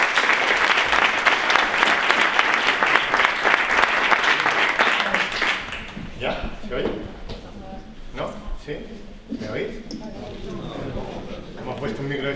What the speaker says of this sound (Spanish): con todos ustedes, Emilio Solís, un aplauso para él